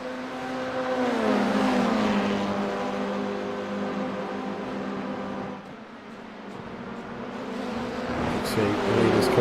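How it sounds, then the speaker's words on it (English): Simulated F4 race cars howl through the final chicane at Donington National in iRacing, with high revving engine tones that dip around the braking zone and climb again on exit, loud and continuous. "The leaders come through the final chicane once more."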